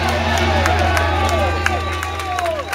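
A crowd at a Taiwanese campaign headquarters opening claps and cheers loudly to welcome four visitors from Canada, with whoops and crowd voices mixed into the sustained applause.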